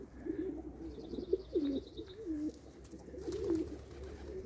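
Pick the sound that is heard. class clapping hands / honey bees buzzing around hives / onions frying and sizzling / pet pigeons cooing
pet pigeons cooing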